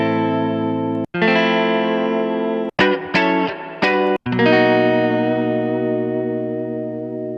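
A single sustained guitar sample note with heavy chorus, distortion and echo effects rings out loud and rich, briefly cut off a few times by short glitchy stutters before resuming and slowly fading, with no voices.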